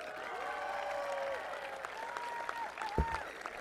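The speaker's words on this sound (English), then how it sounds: "Please give Melanie another round of applause." A graduation crowd at IMG Academy's 2014 commencement applauds an award winner, a broad steady clapping from many hands with cheering whoops rising over it, plus a sharp thump near the end.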